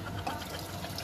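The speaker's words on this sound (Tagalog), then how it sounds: "Lagyan natin tubig." Water pours into a cooking pot of ginataang tapilan beans with chicharon, a brief, steady watery rush heard up close, with no talking.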